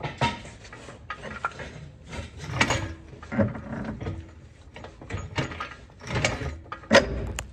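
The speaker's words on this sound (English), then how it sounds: "I'm gonna jack it up some, which then should allow the bolt to just fall in there" A jack raising a 2008–2014 Cadillac CTS during upper control arm replacement, heard as a close series of ratcheting clicks and creaking metal knocks in irregular bursts, with no voices.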